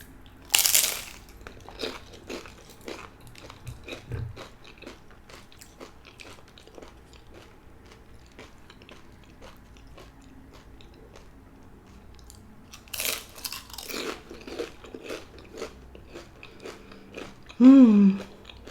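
Crunchy chips bitten and chewed up close, with loud crisp bites at the start and again near the end and softer chewing between; a brief vocal sound closes it.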